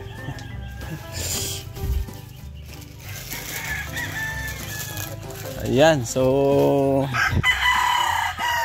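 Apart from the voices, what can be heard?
rooster crowing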